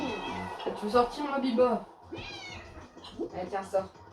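A pet cat meows indoors behind a closed bedroom door, a couple of drawn-out calls mixed in with a woman's speech close by.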